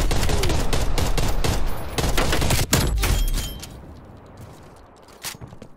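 Dense, loud automatic gunfire and explosions in Call of Duty: Cold War multiplayer, a heavy continuous barrage that thins out and fades toward the end.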